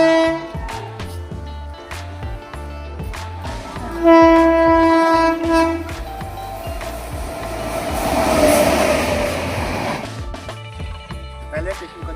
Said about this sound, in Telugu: రైల్వే స్టేషన్కి వచ్చినాం